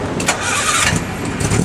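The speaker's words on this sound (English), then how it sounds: "because the generator makes a little bit of noise." At an outdoor power line safety demonstration, a generator runs with a steady, loud, engine-like rumble throughout.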